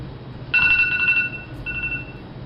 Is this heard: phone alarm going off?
yes